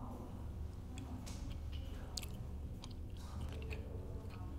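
Soft, close chewing of potato gnocchi with bits of meat and black olives at a countryside trattoria, faint moist bites and squishes over a steady low room hum, with no talking.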